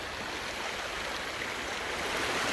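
Water rushes through a stream in the Loyalhanna Gorge, driven by a concrete wall at a bend, as a dense, continuous roar that stays loud and steady throughout with no voices.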